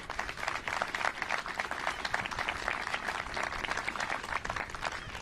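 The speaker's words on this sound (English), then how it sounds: "Just give her a round of applause." An audience at Governor Pritzker's Illinois energy bill signing applauds Mary Hanahan in a steady, even round of clapping that sounds somewhat distant and soft and continues unbroken.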